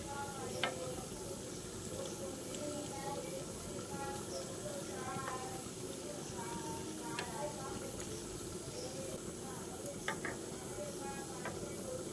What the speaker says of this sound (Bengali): এই একইভাবে আমি বাকি খাজাগুলোকেও ভেজে নেব।